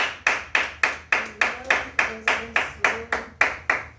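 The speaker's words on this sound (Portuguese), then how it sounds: "As palmas ao Senhor Jesus" A church congregation claps in a steady beat at a prayer service, about three claps per second, with a faint sung melody underneath.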